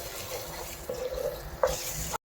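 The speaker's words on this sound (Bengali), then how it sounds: "দিয়ে দেবো জল" Water poured into a pan of frying spice paste with cumin and coriander powder while cooking methi rui, a Bengali rohu fish dish with fenugreek; a short splashing pour over a soft sizzle.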